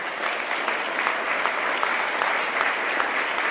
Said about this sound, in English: Can we just all applaud Mr. Milstein?